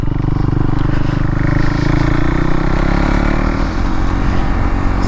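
KTM Duke motorcycle engine humming steadily while riding slowly over a wet, slushy road, close and loud with a rough, continuous drone and road noise underneath, no talk.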